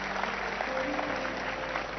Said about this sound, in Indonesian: Ayo tepuk tangan yang benar-benar mau tepuk tangan.